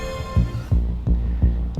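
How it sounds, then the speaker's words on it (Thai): A heartbeat sound effect in an AI-made horror short: loud, deep, close thumps repeat at a quick, steady pace over a low hum. "หัวใจเต้นแรงไม่เป็นจังหวะ"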